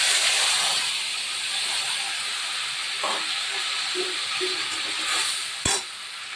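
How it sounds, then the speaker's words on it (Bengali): Black cumin and spices sizzling in hot oil in a pan, a loud continuous hiss that eases slightly after the first moment, with a few soft stirring taps and one sharp clatter near the end. "এবার এই তেলে আমি দিয়ে দেবো কালো জিরে"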